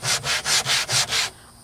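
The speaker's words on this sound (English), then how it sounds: "I'm putting in a fair bit of elbow grease with my sanding block, but it's not quite cutting it" A 60 grit sanding block is pushed by hand across the wooden top of a vintage record cabinet, six steady, rasping back-and-forth strokes up close before the scraping stops.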